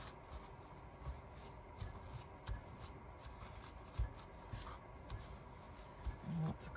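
A used paper towel handled during an art journal painting session, soft crinkling and rubbing rustles at close range with a few light taps, no talk.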